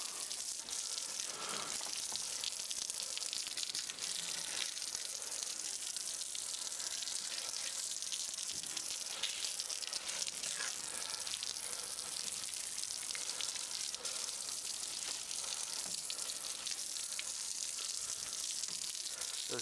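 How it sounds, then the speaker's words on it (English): A cheap garden hose, not a pressure washer, sprays water to rinse a wooden deck cleaned with sodium percarbonate, making a continuous broad hiss of water striking and splashing on boards, steady for the whole stretch with small spattering variations. "I'm going to rinse this off and see how that works. And I'm not using a pressure washer. In fact, I'm using a junky hose."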